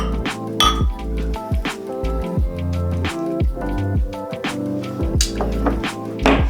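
Glasses of New England craft beer clink together in a toast, several bright chinks and clinks ringing out close and loud over a music bed, with no talk.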